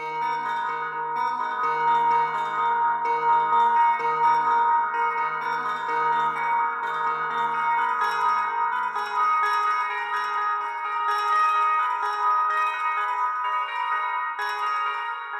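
A trap beat melody played on a bell synth, bright ringing notes repeating in a steady pattern over a low sustained tone for about fifteen seconds, loud and clear with no speech.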